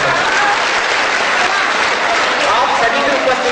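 Dense audience applause at a Hindi comic poetry gathering at a college festival, loud and steady throughout, a continuous wash of many hands clapping at once without pause.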